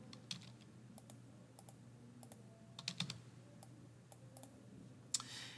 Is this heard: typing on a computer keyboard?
yes